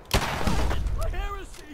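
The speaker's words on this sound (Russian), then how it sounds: "Куда ты стреляешь?" Gunfire in the video game Fallout 4, a sharp loud burst at the start with a rumbling tail, followed by rising and falling tonal game effects.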